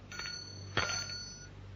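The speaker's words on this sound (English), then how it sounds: "she paused at the desk and rang the bell" A desk bell is struck twice in an office foyer, a bright ringing tone that hangs briefly over a low background hum, with one lighter tap followed by a louder strike.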